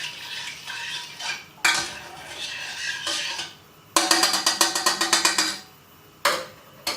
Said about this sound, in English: we need to keep stirring it